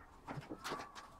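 A bird, tagged as a pigeon or dove, trapped on a balcony gives a few soft cooing calls and brief rustles close by, spread over about a second.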